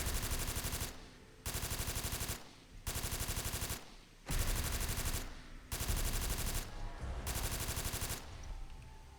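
Light machine gun in Fallout 4 firing long sustained automatic bursts, six loud rapid strings of shots separated by short pauses, close and dominant with no talk.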